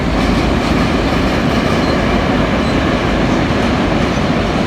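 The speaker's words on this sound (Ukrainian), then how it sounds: "Потяг пішов. Зараз буде дуже гучно." A freight train of tank wagons rolls past close by, a loud, steady rumble with dense rail clatter and wheel noise holding at full strength throughout.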